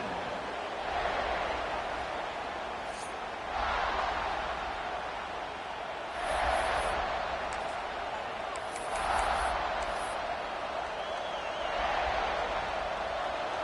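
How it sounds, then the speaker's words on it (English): A stadium crowd at a Gainesville college football game keeps up a broad, steady roar that swells in waves every few seconds, with occasional whistles above it. "This crowd ready to make its presence known."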